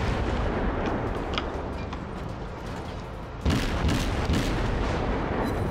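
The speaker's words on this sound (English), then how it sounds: "Just keep up the barrage." Naval gun barrage in the video game World of Warships, a dense rumbling roar of cannon fire with sharper booming salvos cracking in during the second half, loud and continuous.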